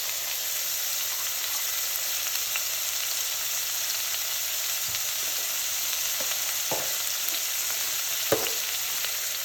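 Fennel seed, cloves and pimento seed fry in a soup pot for a one-pot seafood soup, making a steady, even sizzle broken by a few louder knocks from stirring, with no speech.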